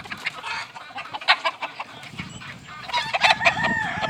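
Chickens in a brood pen holding a pullet and her gold buff split father: a rooster crows loudly and nearby, with clucking and cackling around it and no talk.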